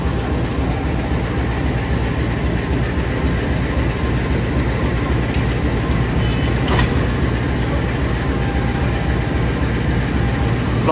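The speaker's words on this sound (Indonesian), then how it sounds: "Lokomotif kereta api Progo sudah tersambung ke rangkaian" A diesel locomotive of the KA Progo train at Lempuyangan station rumbles steadily nearby, a deep continuous engine drone with broadband noise and no break, loud throughout.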